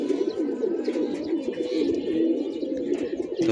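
Pigeons coo continuously on a rooftop, overlapping soft rolling calls close by with a few faint chirps.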